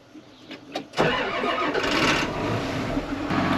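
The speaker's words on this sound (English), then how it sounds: "Those glow plugs, they fire and it just starts right up with almost no hesitation" Diesel wheel loader cold-started at minus 10 with glow plugs, unplugged: brief cranking clicks, then the engine catches abruptly and settles into a loud, steady, close idle.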